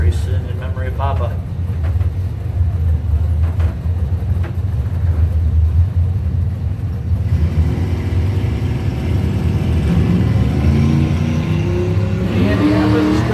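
Drag-strip launch of a 1975 Buick Century and a 1984 Mustang in doorslammer qualifying, a loud sustained engine roar that swells and rises in pitch as the cars pull away, with an announcer talking over it.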